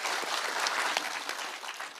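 A crowd at a police security community meeting breaks into another round of applause, with brisk, dense clapping that holds at a steady moderate level throughout.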